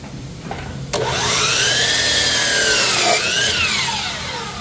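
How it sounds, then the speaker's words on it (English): Battery-powered chop saw cutting wood, a sudden whine as the blade spins up and bites in, then a loud sustained rising-and-falling saw tone through the cut, close by and without talking. "You got to be careful with this one because the blade will keep spinning after you let go of the trigger"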